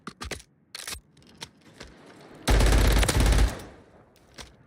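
A video game weapon fires, with scattered sharp shots early on, then a dense burst of rapid automatic fire lasting about a second, followed by a few isolated clicks.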